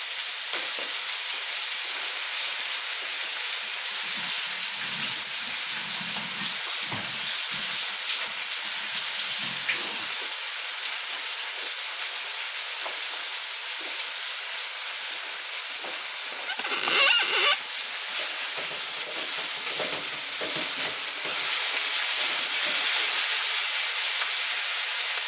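Chorizo sizzles in olive oil in a paella pan, a loud, continuous close frying hiss with crackling spatter that swells near the end, with no talking.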